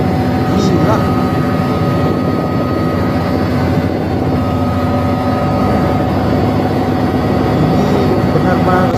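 A helicopter hovers or flies nearby with a steady, loud, continuous rotor and engine roar. The roar holds at an even level for about nine seconds.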